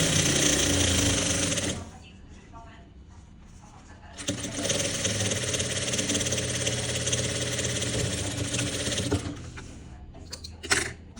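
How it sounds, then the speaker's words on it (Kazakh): A sewing machine stitches darts on a vest in two long loud, rapid buzzing runs with a quieter pause between them, ending with a few short clicks and knocks; no talking is heard. "Бойдың вытачкаларын тігіп алдық."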